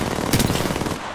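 Automatic gunfire in the shooter game Apex Legends, a short, loud, rapid burst of shots packed into about a second.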